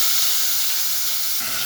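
Pieces of pangas fish fry in hot oil in a pan, making a steady, close, bright sizzling hiss throughout the brief moment without any voices.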